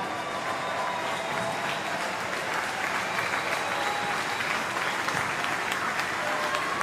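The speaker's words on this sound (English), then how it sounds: "That applause you can hear is for Miguel DePizio, who's making his way back to the bench." A stadium crowd at an A-League football match between Central Coast Mariners and Brisbane Roar claps steadily as a player leaves the field, a broad, sustained wash of applause over distant crowd murmur.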